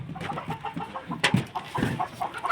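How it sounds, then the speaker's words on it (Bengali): Laying hens in a poultry house, an egg-layer shed about 18 by 30 feet, cluck nearby in short overlapping bursts, with one louder squawk standing out midway. "এটা তো মুরগি আছে।"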